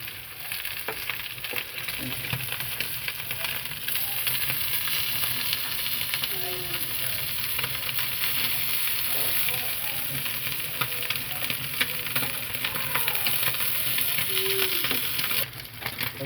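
Small chapila fish fry in hot oil with a steady, close sizzle and crackle that runs unbroken from start to finish, and occasional stirring mixed in.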